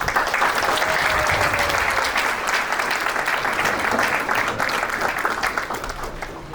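Audience applause at an ISKCON festival gathering, dense sustained clapping from a sizable crowd, loud and even throughout before easing slightly at the end.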